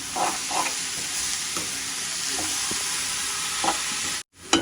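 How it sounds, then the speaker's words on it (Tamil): Shredded cabbage tossed into fried onions in a hot pan for a Tamil home lunch, a steady broad sizzle with intermittent scraping stirs of the spoon, close and fairly loud, cutting out briefly near the end. "இதுக்குள்ள வந்து கோவாவை நாங்கள் போடுவோம். போட முடிஞ்சிட்டு பிரட்டி விடுவோம்"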